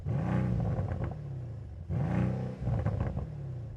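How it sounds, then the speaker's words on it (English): A Mercedes C63 AMG Coupe engine revs twice, held back by a soft limiter, each time rising into a rough, throaty roar before settling back to a steady idle, heard up close. "Let's have a listen to the C63 Coupe."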